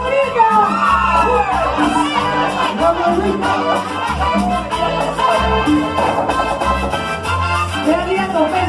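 A live audience at a Peruvian folk music show shouts and whoops in reply to a host's call, producing a loud, continuous crowd roar mixed with voices throughout.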